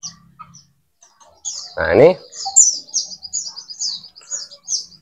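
A male white-eye (pleci) gives a run of rapid, high, thin chirps in quick repeated bursts, close and clear, while someone speaks briefly in the middle.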